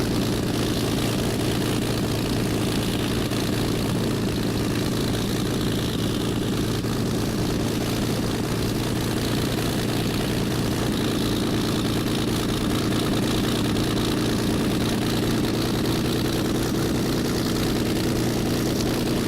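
Spitfire propeller engine in FSX idling steadily while taxiing, a continuous loud drone with a low rumbling hum and broadband propeller wash, unbroken and close throughout.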